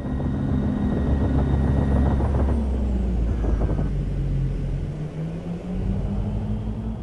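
Helicopter rotor under strain in a simulated X3 configuration in the X-Plane flight simulator, a loud steady rumbling drone with a strained tonal whine that shifts pitch midway, continuous and close throughout.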